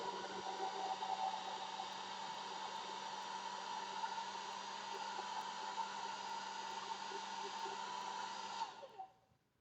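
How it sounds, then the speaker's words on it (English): A hair dryer blows on its hot setting, a loud, steady whooshing whine with a constant motor tone close by that runs for several seconds before cutting off and winding down. "So I'm going to use my hair dryer setting on hot."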